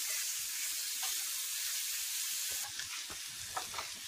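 Finely chopped onions frying in a pan, a bright steady hiss of sizzling oil with faint stirring taps toward the end.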